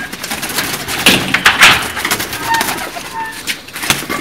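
Racing pigeons kept by a Punjabi pigeon fancier coo and flutter nearby in a loft, soft repeated calls over a busy, shuffling background with no clear speech.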